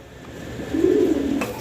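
A single pigeon gives one low, drawn-out coo, fairly close and alone, ending in a short click.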